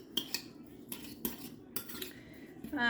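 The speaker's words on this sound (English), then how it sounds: "I'm just going to give that a stir around" Taco meat stirred in a pan with a metal utensil, a series of light clinks and scrapes spaced about every half second, fairly quiet.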